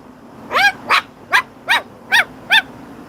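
A neighbour's dog barks six times at a steady, evenly spaced pace, each bark short and clear at moderate distance against a quiet outdoor background.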